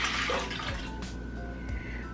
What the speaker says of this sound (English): Lastly, 1 cup of very warm water.